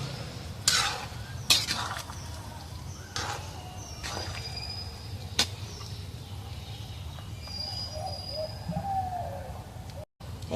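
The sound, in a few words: stirring mustard paste into drumstick posto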